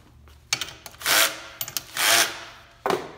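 A 3/4 inch wrench tightening the platen assembly on a belt grinder, giving a few sharp metallic clicks between longer rasping ratchet-like turns, close and fairly loud with no talking.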